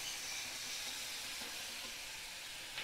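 Chopped tomato sizzling in a pan of dal, a steady, soft hiss and crackle of frying that runs throughout without a break, with no one talking.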